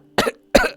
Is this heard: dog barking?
no